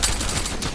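Rapid gunfire in a video game, a dense continuous burst of shots lasting under a second at steady loudness.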